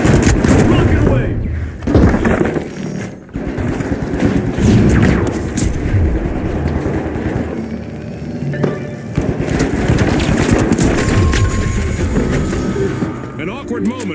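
In the video game The Finals, a rocket launcher fires and explosions boom amid scattered gunfire during a team battle, loud and continuous beneath an announcer's running commentary.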